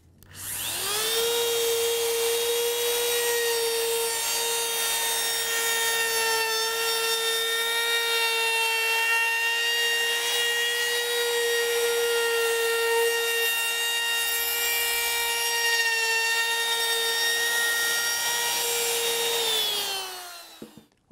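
A power saw cuts a wooden rocking chair arm in one long continuous run lasting about twenty seconds, a loud steady whine with a strong tonal pitch that holds level and then winds down, with no voices.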